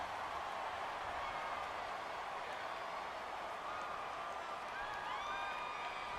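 A stadium crowd in the American football video game Madden roars before a two-point conversion attempt, a steady, dense wash of cheering and whoops with faint whistle-like tones rising near the end, and no clear talk.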